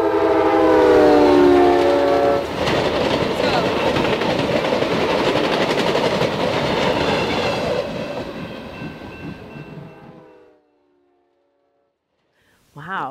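A passing train blasts its horn loudly for a couple of seconds, then rolls by with a heavy rumble and clatter that fades away over about ten seconds into silence.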